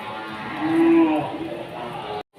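A single cow moos, a long low call fairly close, amid the murmur of a busy livestock market in Aceh where local and Bali cattle are for sale.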